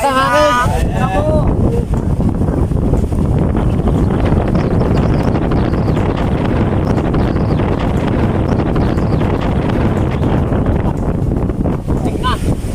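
Strong wind roars across the microphone in a loud, continuous buffeting rush, with a brief voice at the very start and again near the end.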